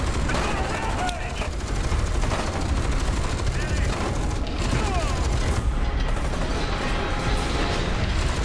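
Enemy gunfire in the shooter F.E.A.R. 2, heard as dense, continuous bursts of shots and booms over a loud, noisy game backdrop with no pauses.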